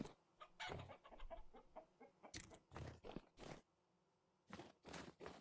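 A fully grown rooster in the survival game Stone to Space clucks and squawks in loud, close bursts, with a short quiet gap before a few final sharp calls.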